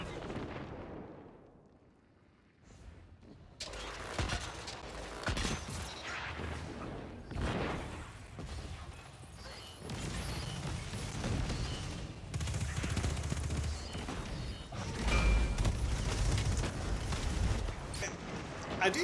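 Rapid Destiny 2 gunfire and repeated grenade blasts build into a dense, loud barrage after a quieter start, with booming low impacts and crackling shots running almost without pause.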